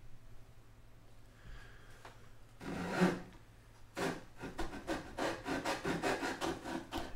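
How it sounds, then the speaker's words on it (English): A hand saw cuts plywood for a dance pad build, with a few tentative scrapes followed by a run of loud, rhythmic back-and-forth strokes up close. "I got a whole lot better at handsawing once I got used to some of this stuff."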